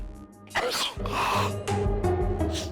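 A single loud, close sneeze bursts out of a quiet indoor room, followed by breathy sniffing and muffled movement.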